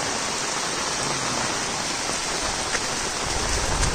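Heavy rain pours steadily during a downpour near a flooded bridge, a dense, continuous hiss that fills the whole moment without pause or talk.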